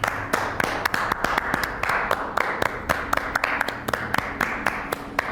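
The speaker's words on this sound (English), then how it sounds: "We're gonna stop clapping now." Sharp claps repeat in a quick, fairly regular rhythm, close by, over a soft background hiss with no talking.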